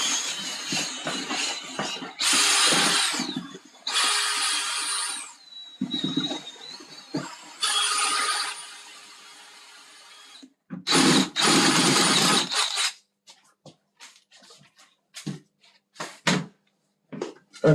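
A power drill fitted with a spiral mixing paddle churns BAL waterproofing compound in several loud whirring bursts of a few seconds each, separated by quieter pauses filled with clattering and knocking.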